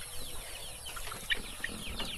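Native chickens cluck softly on a farm, scattered short calls over a steady background hum, fairly faint and slightly distant.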